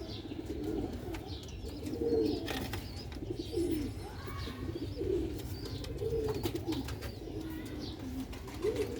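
Pigeon chicks coo in soft, repeated throaty phrases about every second, close by over a constant low background hum, with faint chirps from other birds.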